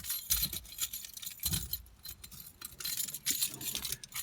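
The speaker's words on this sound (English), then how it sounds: "I better grab my keys here." Keys to a 2005 Ford Focus ZX3 jangle in a few quick metallic bursts, close and fairly faint, with light clinking scattered across a few seconds.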